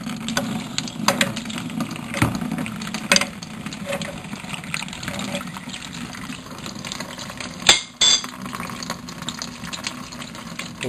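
Water from a water main pipe trickles and splashes steadily for several seconds over a low rumble, with a brief louder gush near the end.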